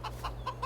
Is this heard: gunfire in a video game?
no